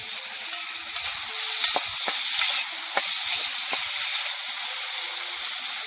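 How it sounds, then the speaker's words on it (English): Steady sizzling hiss of fish frying in a hot pan for brown stew fish, with scattered scraping clicks as it is stirred. "just basically stir frying a little bit, so sauteing them up a little bit"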